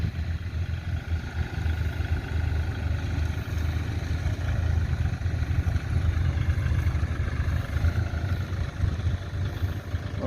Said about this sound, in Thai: เสียงเงียบดีนะครับเหมือนกับ รถไถเล็กเลย